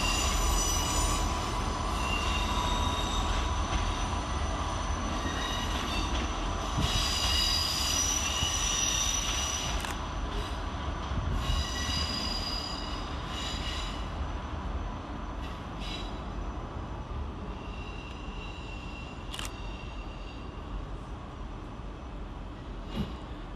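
Class 159 diesel units 159103 and 159005 pull out of London Waterloo on a South Western Railway service to Exeter St David's, a steady loud rumble with wheel squeal and rail noise that eases slightly toward the end.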